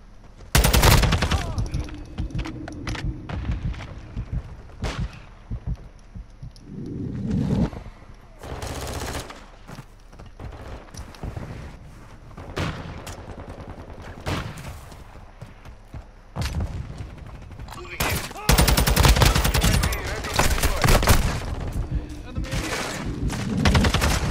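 Call of Duty gunfire, with long bursts of rapid automatic shots and scattered single cracks that stop and restart across the stretch, loud and near, with heavy sustained volleys toward the end.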